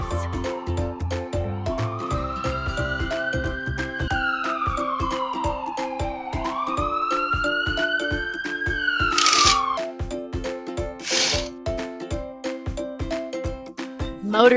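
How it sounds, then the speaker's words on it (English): An ambulance siren wails in rising and falling sweeps, loud and close, over a steady rhythmic beat, with a couple of short bright bursts near the end. "Ambulance."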